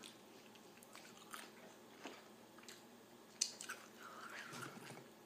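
Nachos are bitten and chewed close to the microphone in quiet, soft crunches and squishy mouth sounds spread over several seconds, with a couple of sharper crisp bites.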